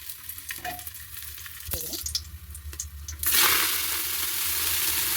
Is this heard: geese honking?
no